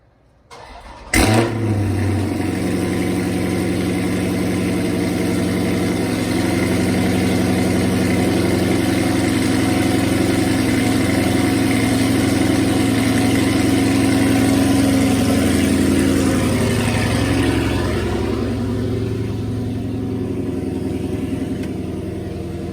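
A car fitted with an aftermarket exhaust system fires up outdoors with a sharp start, then settles into a steady, deep idle that stays loud and even throughout, with no talking.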